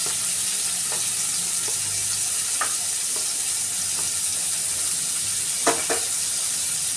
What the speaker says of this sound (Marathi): आता आपण त्याच्यात कांदा टाकून घेऊया. कांद्याबरोबरच लसूणही टाकायचं.